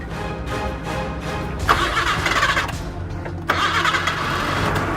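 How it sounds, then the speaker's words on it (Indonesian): A car engine cranks and catches, turning over roughly at first, then firing up loudly and settling into a steady mid-pitched run, with a brief dip before it surges again. "coba sekarang nyalain mesinnya"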